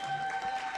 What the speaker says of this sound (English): please be clapping.